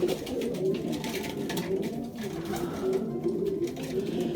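Soft, repeated cooing of pigeons in a loft, a low murmuring chorus with faint rustling underneath.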